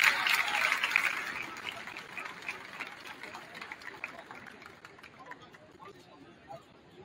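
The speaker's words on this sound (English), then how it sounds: "please, another round of applause for your 2024 MHS Wall of Fame inductee" Crowd applause for a 2024 MHS Wall of Fame inductee in a gym at a Mattoon vs Charleston boys JV basketball game, a steady wash of clapping that is loudest at the start, then slowly thins out.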